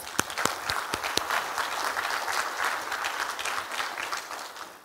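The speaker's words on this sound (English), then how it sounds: "I want to give them a round of applause" A crowd claps steadily, with a few sharp individual claps standing out at first, moderately loud and continuing without talk.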